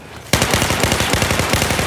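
An M416 rifle fires in a 5v5 defuse match of a video game: after a brief quiet moment, a loud, rapid string of evenly spaced automatic shots rattles on without a break.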